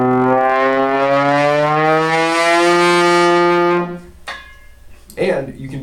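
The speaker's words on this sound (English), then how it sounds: "only trombone players get to do it. It's called the Gliss." A trombone plays a loud glissando as the slide moves from fully out up the horn, one sustained rising brassy sweep lasting about four seconds, followed by short breathy sounds.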